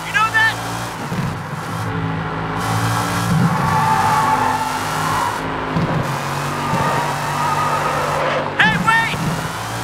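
Car engine from the Sleeping Dogs video game, a steady droning motor with occasional revving and tire noise running throughout, mixed with game dialogue and music.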